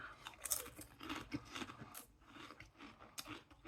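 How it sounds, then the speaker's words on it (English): Someone bites into crinkle cut, hand-cooked roast beef and horseradish crisps and chews them, giving close, crisp crunches in irregular bursts with no talking, fairly quiet overall. "So they're lovely, crispy and crunchy, but they've got that oiliness that you want from good crisps."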